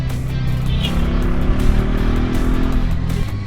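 A Bajaj Pulsar NS400Z, a 400 cc motorcycle, is ridden at speed with a loud, steady engine drone and wind rush that hold close and constant throughout.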